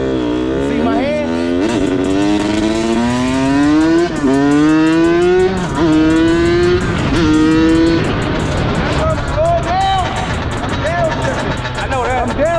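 A dirt bike engine revs hard and close while the rider downshifts, its pitch climbing in repeated sweeps and dropping at each gear change across the run, with a voice talking over it.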